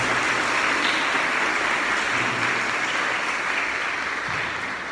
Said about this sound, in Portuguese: Dê uma salva de palmas para a palavra.